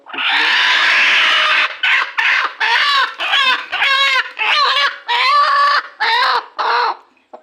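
A free-range village hen clucks in a steady series of short, nasal calls after a long harsh squawk, fairly loud and close, with no talking.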